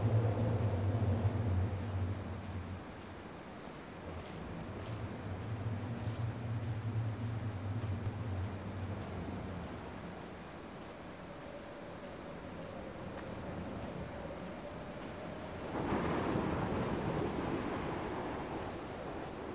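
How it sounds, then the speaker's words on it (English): Wind blowing across the island in the video game Dear Esther, a soft continuous rush with a low droning undertone that swells and fades, with a brief louder gust near the end; no voices. "It's a windy, windy, windy, windy island."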